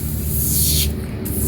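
SuperClean foaming degreaser hisses from an aerosol can onto a greasy mower deck in one loud, steady spray that cuts off near the end, over a low background hum.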